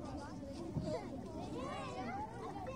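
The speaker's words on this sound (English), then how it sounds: "I hear kids playing." Children playing in a park, a lively background of young voices calling and chattering at a moderate distance, continuous throughout.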